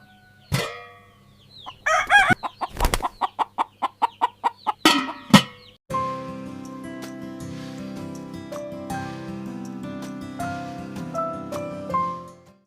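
A rooster crows loudly several times in quick succession amid clucking and rapid percussive notes, then steady sustained tones continue underneath.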